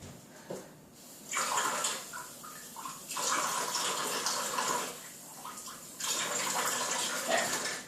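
Tap water running into a bowl to measure two tablespoons for a microwave mug brownie, a steady broadband hiss in three bursts with short pauses between, fairly close and alone.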